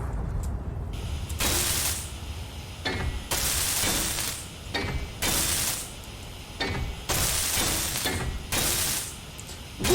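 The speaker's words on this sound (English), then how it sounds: "Okay, I hear an explosion now." In the game Elachi Survival, a series of sharp, explosive bursts go off one after another with brief gaps between them. Each burst has a crackling, shattering edge, and the sounds come through fairly loud.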